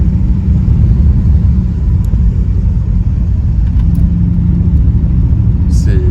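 A muscle car engine accelerates gently, giving a loud, steady low rumble heard close up, likely from inside the car, with no sharp revving for the whole stretch.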